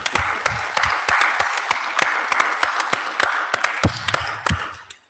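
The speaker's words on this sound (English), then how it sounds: "Please give them another round of applause" Plenary audience at IETF 121 breaking into applause: a dense wash of clapping with sharper individual claps standing out, holding steady for several seconds before tapering off at the end.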